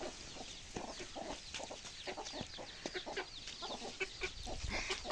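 Chickens clucking in a farmyard with goats nearby, a run of fairly close, repeated clucks and squawks with outdoor background noise.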